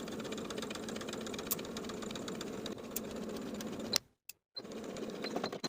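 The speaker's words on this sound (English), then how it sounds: "Sew the facing to the right front piece with a 3/8 inch seam allowance from the top to the notch." A sewing machine runs quietly and steadily while joining a fly facing to the front piece of a pair of shorts, then stops abruptly for a short silence before starting up again.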